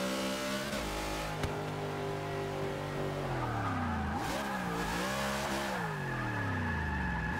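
Tires squeal in a long, continuous screech as a 2013 Ram Runner pickup truck does a burnout and drift in Forza 6, with the engine revving and rising and falling in pitch beneath it.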